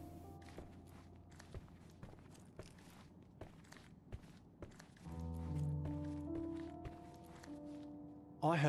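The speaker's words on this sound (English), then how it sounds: "I heard footsteps upstairs a second ago." Footsteps on the floor upstairs in Sherlock Holmes: Chapter One, a slow series of faint thuds and taps spread over several seconds, followed by a low droning tone swelling underneath.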